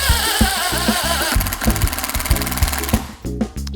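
A SKIL 12 volt impact driver runs at its lowest speed setting, hammering in a loud rapid rattle of evenly spaced impacts with brief changes in pace, close up and alone.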